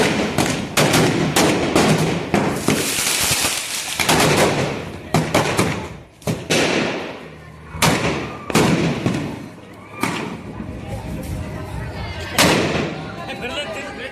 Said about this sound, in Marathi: आमच्या अंगावर सुद्धा ते फटाके उडत होते